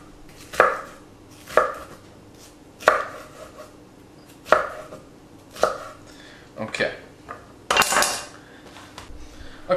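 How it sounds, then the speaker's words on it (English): A kitchen knife cuts a pepper into thin strands on a board, with about eight separate sharp chops spaced irregularly and close up, and some light talk in between. "So we're going to cut the pepper up into little strands like so."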